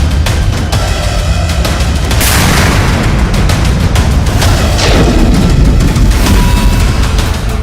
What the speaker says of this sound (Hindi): अफगानिस्तान की सरकारी एयरफोर्स जबरदस्त बमबारी कर रही है